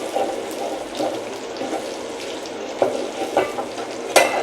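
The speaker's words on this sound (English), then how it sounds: "The onion is already golden brown, so we are going to pour in garlic, then stir for 30 seconds." Garlic sizzles in a pan with golden-brown onions for beef pilau, a steady frying hiss broken by the scrape and clink of a spoon stirring, close and moderately loud with no talk.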